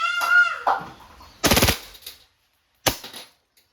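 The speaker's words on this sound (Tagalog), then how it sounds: "Then, one press, rapid firing po yun." A WE Hi-Capa T-Rex airsoft pistol, all black, fires on full auto in two short, sharp bursts of rapid shots. The bursts come close by, separated by a brief pause, after a few faint chirpy sounds at the start.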